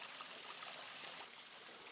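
Water runs steadily into an Invacare supine bathing tub, making a continuous hissing, trickling stream that stays even and moderately close throughout.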